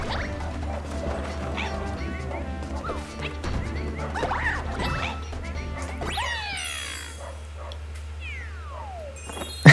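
Cat power-up meows from Super Mario 3D World on Nintendo Switch, a few short game-sound mews mixed with crashing effects and a steady music bed, with a rising sweep near the end.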